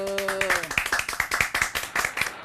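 Several people clap at a lively Thai talk show, quick uneven hand claps following a brief voice at the start, close and moderately loud.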